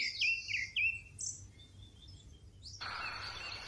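Birds chirp in a garden, with a quick run of three bright, close calls followed by sparser, thinner tweets, before a soft hiss of background sound comes in at the end.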